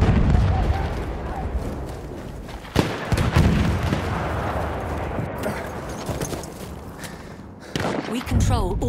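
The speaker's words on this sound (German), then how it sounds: "Artillerie, Vorsicht jetzt!" Artillery fire in the World War I shooter Battlefield 1 on the St Quentin Scar map: sharp booms and gunfire bursts crack through a constant battlefield din, with a heavy blast near the end, while a voice talks over it.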